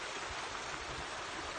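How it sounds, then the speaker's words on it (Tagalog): Loud, steady rushing of a mountain stream in Hong Kong, a continuous broadband roar with no breaks. "Maingay sila ngayon, guys, yung tubig."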